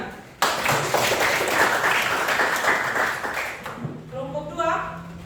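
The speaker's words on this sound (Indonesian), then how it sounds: "Oke, tepuk tangan." Classroom applause from students after a group presentation, a burst of dense clapping lasting about three and a half seconds before fading into a brief voice.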